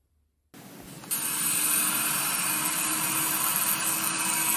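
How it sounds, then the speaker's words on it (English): A Dremel rotary tool fitted with a Typhoon carving bit grinds into wood: after a short silence it spins up, then settles into a loud, steady high-pitched whine with gritty cutting noise, running continuously with no talking. "what I'm using here is I got my Typhoon bit in my Dremel here"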